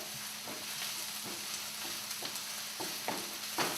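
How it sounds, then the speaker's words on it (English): Onion frying in a pan for fried rice, a continuous close hiss and sizzle with several soft stirring scrapes at irregular intervals, no voices. "So I've got my onion in there. And we're going to let that fry for about 5 minutes till it gets nice and golden"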